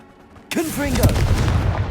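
A fiery blasting-spell explosion in the video game Hogwarts Legacy bursts in abruptly and loudly, followed by a rumbling, crackling boom that sustains, with a short voiced cry mixed in.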